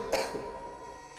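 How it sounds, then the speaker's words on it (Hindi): A single rough cough rises from a courtyard below in a horror-tale setting, a short double burst near the start followed by a quiet, hollow lull. "तभी नीचे आंगन से किसी के खांसने की आवाज आई।"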